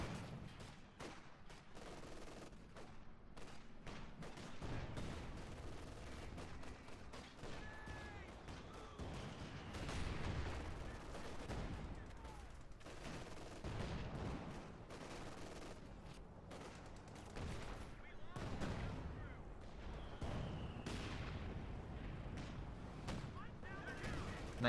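Sustained battlefield gunfire from the World War II strategy game Company of Heroes 2, with repeated rifle and machine-gun bursts and booming impacts scattered across a dense, continuous combat din at steady volume.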